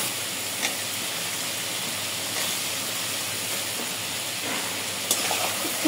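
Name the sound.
tomatoes added to fried spice paste, sizzling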